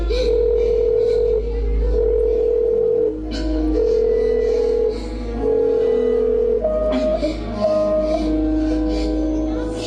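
Telephone tone after a disconnected call, a steady repeating beep in regular on-off bursts, loud and close, with a background hum underneath.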